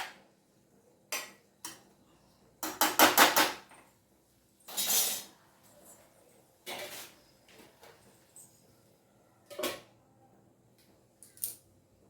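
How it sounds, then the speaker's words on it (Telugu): A lid clatters onto a cooking pot of Andhra chukka kura tomato curry with a few sharp metallic clinks and knocks, separated by quiet gaps. Nothing else is heard. "ఇప్పుడు దీన్ని మనం మూత పెట్టి బాగా మగ్గనిద్దాం"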